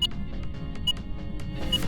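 A tier 3 EMF reader at level 5 in Phasmophobia gives a few brief electronic blips, quick and quiet, over a dull background hum.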